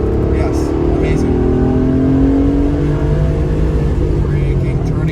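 An autocross car at Lime Rock accelerates hard out of a corner, its engine note climbing steadily and loud from inside the cabin, with a voice speaking over the drone.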